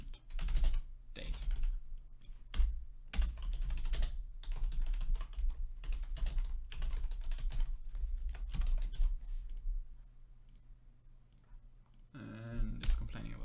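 Rapid keyboard typing while writing code for a web prototype, bursts of close, crisp key clicks with short pauses and a brief quieter stretch near the end.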